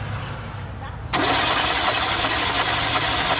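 A quiet stretch, then a Renault Scenic engine abruptly starts cranking during a compression test, with a loud, steady churning that continues to the end.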